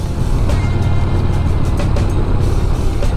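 A Yamaha XV 950 Bolt motorcycle engine runs with its exhaust removed, a loud, continuous deep rumble and throb heard up close, steady and unbroken, with no talking over it.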